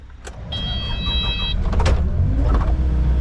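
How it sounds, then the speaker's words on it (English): A truck arrives at a soil remediation job site, its engine rumbling steadily and growing louder as it approaches, with a brief high mechanical whine partway through. "first truck is here, 4 minutes early"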